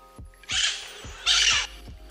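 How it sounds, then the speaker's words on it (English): Two harsh, raspy parrot squawks ring out one after another over a faint, rhythmic low thumping in the background. "parrots"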